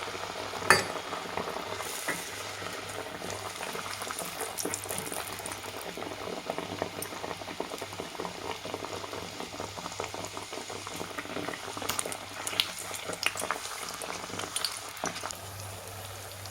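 Neypathal, a Kerala dough snack, frying in hot oil and giving a dense, continuous bubbling sizzle close by that holds steady throughout with small crackles, no voices.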